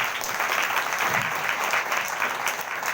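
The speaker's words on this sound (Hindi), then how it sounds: "जोरदार ताली से प्रभु को धन्यवाद करें।" A church congregation at a Sunday prayer meeting claps hard to give thanks to the Lord, a dense, steady wash of applause that fills the whole stretch at close range, with no voices rising above it.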